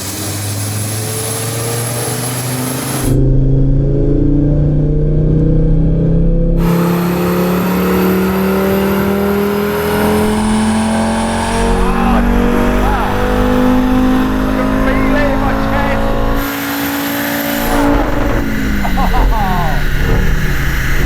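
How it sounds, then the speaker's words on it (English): An Audi RS3's five-cylinder engine, on a 13-year-old car, revs hard through rising warbling pulls, loud and close, with brief drops between gears and people talking over it. "It's that 5-cylinder warble."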